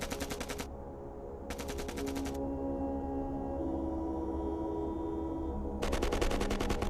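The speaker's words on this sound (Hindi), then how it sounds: "फायरिंग वापस शुरू हो गई।" Rapid automatic gunfire bursts from a bunker firefight crackle in sharp repeated volleys, stopping briefly and then resuming loudly over a humming background.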